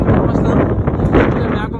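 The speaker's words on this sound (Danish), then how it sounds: "Hvor meget det blæser." Strong wind buffets the microphone outdoors while walking through Berlin near a small park and canal, producing a continuous loud, rumbling roar that lasts throughout.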